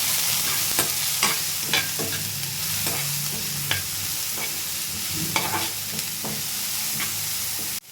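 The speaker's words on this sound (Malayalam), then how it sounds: "ഇത് നന്നായിട്ട് സ്റ്റിർ ചെയ്യണം." Kadala curry frying in a pan, with a steady sizzle and a spoon scraping and knocking against the pan at irregular moments, close and clear, with no voices.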